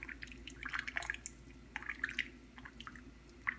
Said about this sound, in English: Let the water drip into the pan.